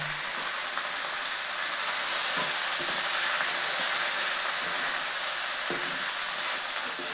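Tempering of cluster beans frying in a pan with garlic and coriander, lentil powder being added: a steady, close, hissing sizzle throughout, with faint stirring scrapes and no talk.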